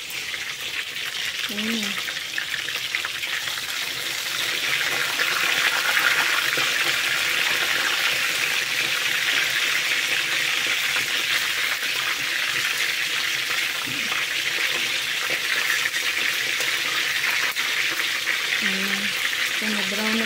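Chicken wings frying in hot oil for a lemon honey garlic dish, giving a steady loud sizzle throughout with a brief spoken word near the start.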